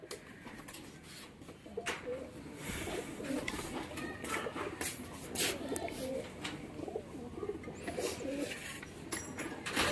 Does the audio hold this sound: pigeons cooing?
yes